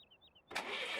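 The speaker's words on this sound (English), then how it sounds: "Start the engine, get it warmed up." A truck engine in Farming Simulator 17 cranks and catches halfway through, jumping from near silence with a faint high tone into a loud, steady broadband roar that holds to the end.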